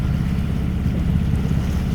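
Sailboat auxiliary engine motoring toward a channel, a loud steady low chugging drone with no pauses.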